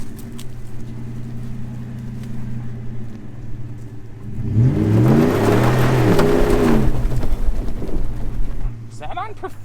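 A pickup truck engine in performance mode revs up hard near a mud hole, the roar rising sharply midway and holding loud for several seconds before easing off.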